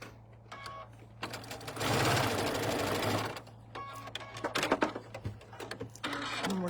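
A sewing machine stitching quilt pieces runs in a brief, steady whirring burst, close by, with clicks and handling noises before and after.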